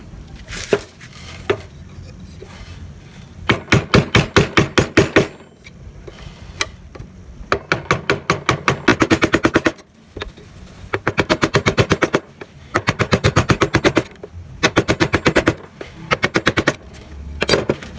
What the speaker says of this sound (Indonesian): ini kalian gunakan pahat kol untuk membuat ornamen ini menjadi cekung ke dalam